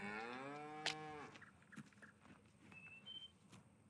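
Cattle low in a long, loud moo inside Farming Simulator 19 on the Hof Bergmann farm map, followed by quieter barn ambience and faint clatter.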